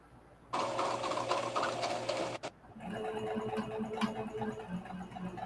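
A sewing machine runs through fabric in a steady mechanical whir, pausing briefly before starting again with a slightly uneven, rhythmic stitching hum, close and fairly loud.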